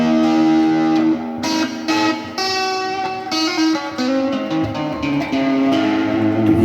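Distorted electric guitar through a Marshall amplifier with a noise gate, loud chords ringing and cutting off abruptly between strums in short bursts, with some reverb tail, played alone.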